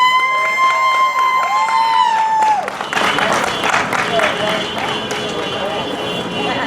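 Rally crowd outside a state capitol building applauding as a speaker is introduced, with clapping and cheering building into a broad wash of noise after a loud tonal sweep at the start, mixed with crowd murmur.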